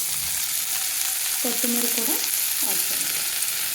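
Cucumber with sesame seeds and coriander sizzles and fries steadily in a pan for a cucumber-sesame roti pickle, with brief stirring scrapes partway through and a faint voice underneath.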